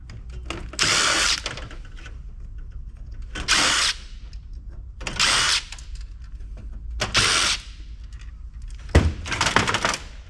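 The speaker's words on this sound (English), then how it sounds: "Let's get the screws off." A power drill backs screws out of a copper-aluminum radiator from an Alienware PC being scrapped, sounding in five loud whirring bursts of a second or so, separated by quiet pauses.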